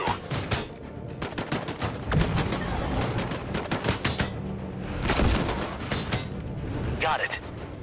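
Sustained automatic gunfire and heavy blasts as units focus fire in the video game Disintegration, loud continuous volleys with explosions layered in and game voices talking over the combat.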